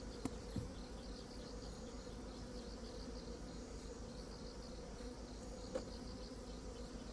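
Honeybees buzz in a steady, faint drone around a hive, alongside a continuous high insect chirring, with a couple of soft knocks and no voices.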